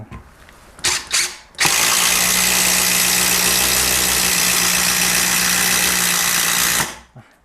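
A Kyocera cordless impact driver runs in one steady, loud burst of about five seconds after two brief trigger blips, its motor whirring with a rattling hammer action before it winds down.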